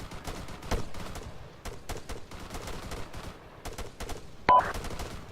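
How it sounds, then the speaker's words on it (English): Gunfire from a military shooter video game crackles in irregular bursts of close, sharp shots, one louder blast near the end, with no voices over it. "Wedge, fire on the tower."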